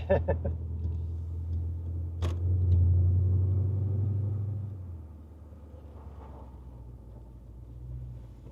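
A Jeep SRT with a HEMI engine pulls away in second gear in Canberra, a deep rumble that swells to a louder roar and then fades as the car moves off, while people talk nearby.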